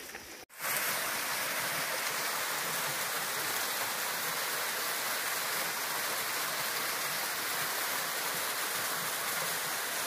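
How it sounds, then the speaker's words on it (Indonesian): Steady, dense rushing of a waterfall on the slope of Mount Pelawangan, loud and continuous after a brief quiet start, with no voices. "Ini air terjun dari lereng Gunung Pelawangan"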